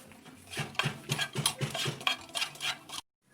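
Fried rice is scooped from a pan onto a bigger plate, a quick run of close metallic scrapes and clinks of utensil on cookware, ending abruptly in silence.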